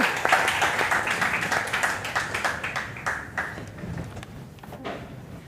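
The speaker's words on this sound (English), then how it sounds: "Please give them a big round of applause," Audience applause in a conference auditorium, a burst of many hands clapping near and loud at first, then thinning and fading toward the end, with no talk.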